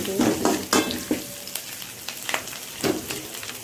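Curry leaves spluttering in hot oil for a spicy chicken curry, with sharp crackling bursts near the start and a few later pops over a soft sizzle, close and fairly loud, no voices.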